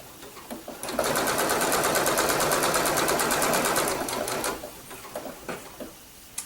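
A sewing machine runs a blanket stitch along quilt binding in a fast, even mechanical patter for about three seconds, then slows into a few separate stitches and clicks.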